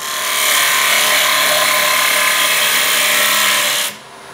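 A wood lathe turning a coloured rim platter makes a loud, continuous rasping cut for about four seconds before the tool lifts away and the sound drops off sharply.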